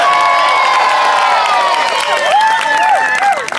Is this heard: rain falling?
no